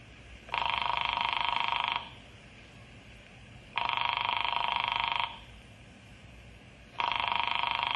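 An old-fashioned telephone bell rings in three long, evenly spaced bursts with short silent gaps between them, fairly faint against a quiet background.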